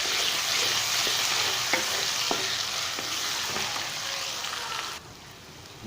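Ginger garlic paste fries with onions in a pan, a close, steady sizzle with a few soft stirring scrapes, and the hiss drops noticeably near the end.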